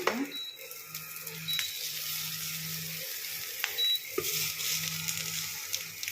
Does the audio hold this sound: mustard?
yes